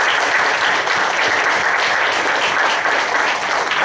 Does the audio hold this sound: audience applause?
yes